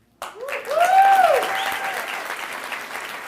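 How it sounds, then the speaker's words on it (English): Audience at an Angel Studios Illuminate 2024 event bursts into applause, a dense wash of clapping that swells quickly and holds steady, with cheers and whoops rising over it. "Thank you for that applause"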